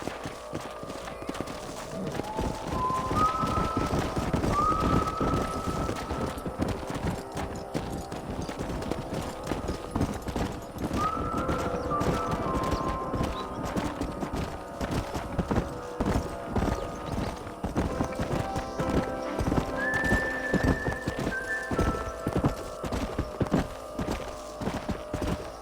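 Horses' hooves clip-clopping at a steady pace in the Red Dead Redemption video game, with occasional whinnies and rising tonal game sounds over the continuous rhythmic hoofbeats.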